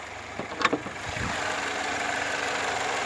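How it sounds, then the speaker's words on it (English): A Chevrolet Malibu engine idles at a steady mid-pitched hum, preceded by a few brief clunks and thumps, with no talking. "The engine's running mint."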